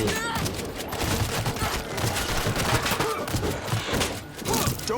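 Dense bursts of zombie-shooter gunfire from World War Z crackle nonstop, rapid overlapping shots forming a loud, continuous fusillade with a few heavier thumps, while players talk over the action.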